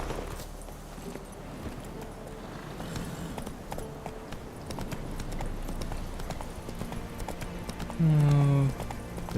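Horse hooves galloping in The Witcher 3, a steady rapid clip-clop running throughout over game ambience and music.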